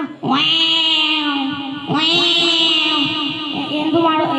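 A student imitates an angry cat, giving two long, strained, wailing meows one after the other, loud and close, with no other sound around them.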